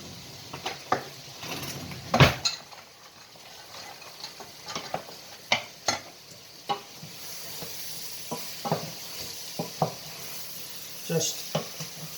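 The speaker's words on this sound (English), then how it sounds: "I'll put the onions and the cashew nuts in to fry to start with" Onions and cashew nuts fry in a pan with a steady sizzle, broken by repeated clicks and scrapes of stirring.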